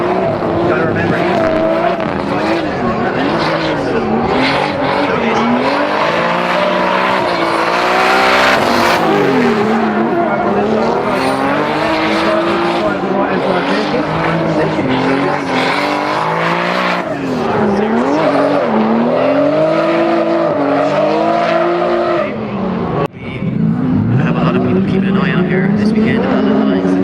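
Drift cars race at Rockingham during a 2018 British drift championship round, one running 520 horsepower. Engines howl and tires squeal continuously beneath steady commentary.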